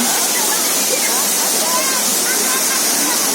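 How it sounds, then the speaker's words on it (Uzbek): A waterfall roars in a mountain setting, a dense continuous rush of falling water, loud and close throughout. "Mana sharshara."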